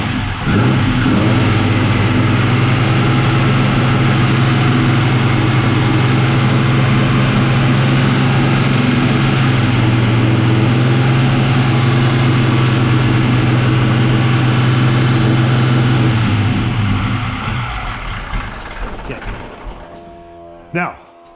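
An engine with a solid roller cam, carbureted and fed a few pumps of fuel, idles loudly after a cold start with a steady rough rumble and mechanical clatter, then cuts off near the end.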